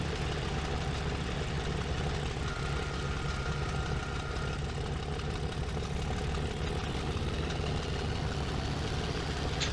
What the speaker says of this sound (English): Very interesting sounds coming from these engines.